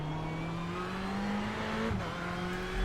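A Ford GT or Ferrari 488 GTE race car in iRacing holds a steady engine whine, then the revs blip and drop sharply as it downshifts into first gear for a turn.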